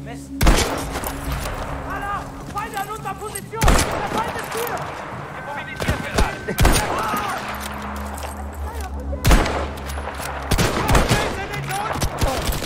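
Battlefield V game gunfire comes in repeated bursts of loud shots and automatic fire, mixed with explosions and battle noise. Voices talk throughout.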